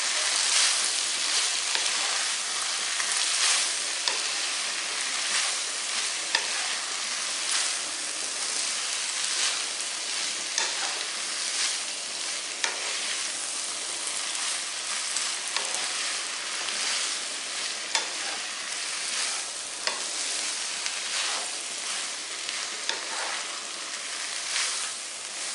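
Pasta sauce with vegetables slowly stirred in a pan, heard as a dense continuous sizzle and hiss that stays even and fairly loud throughout, with faint scraping and no speech.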